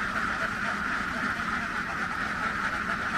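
A large flock of laying ducks quacks continuously in a dense, steady chorus, moderately distant and fairly faint, with no pauses.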